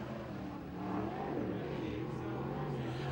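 A USAC/CRA sprint car engine roars on a qualifying lap at Tulare, a steady loud drone that swells as the car accelerates off the turn, heard without talk.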